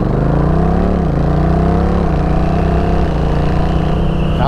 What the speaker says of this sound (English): I love the sound of this new exhaust.